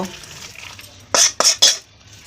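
Soybean curry being scooped from a pan into a bowl, heard as three quick, close metallic scrapes and clanks of a spoon against cookware in fairly quiet surroundings.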